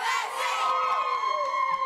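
A crowd of children cheers and shouts loudly to welcome a gymnast home, a dense burst of high excited voices with sustained whoops throughout.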